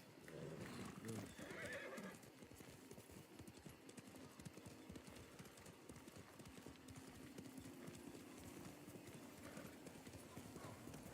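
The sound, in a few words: horse in video game Ghost of Tsushima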